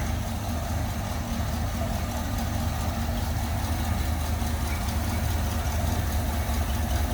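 A 1964 Chevrolet Impala SS two-door hardtop with a 350 V8 idles with the hood up, a steady, close, even rumble that holds level throughout with no revving.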